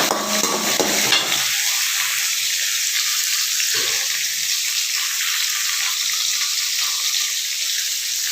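A big handful of curry leaves hits hot oil in a pan for coriander-mint chutney, bursting into a loud, close hiss that settles into a steady, bright sizzle, with no talk.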